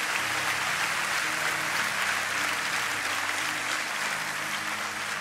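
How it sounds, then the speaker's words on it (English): Church congregation at the Brooklyn Tabernacle claps together in a sustained, even burst of applause that fills the room from start to finish, with no talking over it. "Can we say amen by clapping our hands?"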